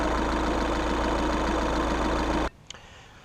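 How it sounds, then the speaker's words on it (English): A 2009 Volkswagen Jetta TDI diesel engine idles steadily and rumbling close by for a few seconds, then cuts out abruptly, leaving near silence with a faint click. "first thing you want to do is warm up the engine a little bit"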